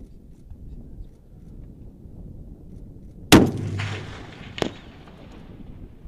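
A single M-107 Barrett anti-material sniper rifle shot fired by US Marines at a range, one sharp, very loud close crack with a booming tail, then a metallic clack a second later over low wind.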